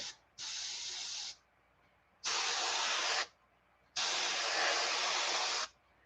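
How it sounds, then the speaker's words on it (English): Three separate bursts of fine airbrush spray, applying pearl white paint to a fishing lure, hiss on and off, each about a second long, with quiet pauses between them. "we'll just do a little spray on the low sides here"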